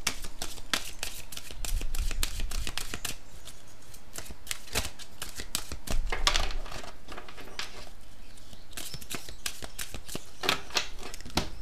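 Magic unicorn oracle cards are shuffled by hand close up, giving dense crisp riffling and flicking that runs on continuously, with a few louder bursts and no talking.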